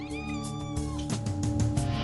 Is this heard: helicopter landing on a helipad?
no